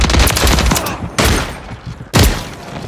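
Loud, close automatic gunfire in a Call of Duty video game, a rapid burst at the start, then two more sharp bursts about a second apart.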